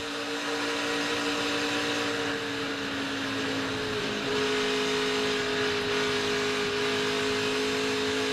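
A race car engine on a track drones steadily at high revs, its pitch shifting slightly as the driver modulates the throttle, with no one speaking.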